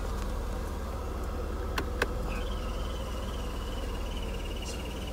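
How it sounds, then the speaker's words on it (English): A car air pump on a Mercedes W124 with about 145,000 miles gives a thin, wavering high squeak like a squirrel, steady and fairly faint over a constant low engine drone, with a couple of sharp clicks just before it starts. "air pump's making a noise like a squirrel."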